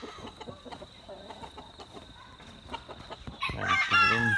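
Hens clucking in a coop with chicks, with soft scattered clucks and murmurs, then a louder, harsher burst of squawking at the end, close by.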